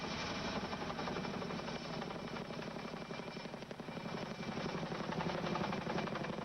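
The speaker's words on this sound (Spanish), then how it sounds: "Un helicóptero del ejército de Estados Unidos fue enviado para transportar los restos" A US Army helicopter flying, a steady loud rotor chop with a rhythmic pulsing beat and engine whine continuing throughout without pause.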